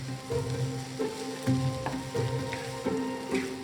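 Steady sizzling from a hot pan with rhythmic scraping strokes as fried rice with rakam salak fruit is stirred and tossed, close and continuous.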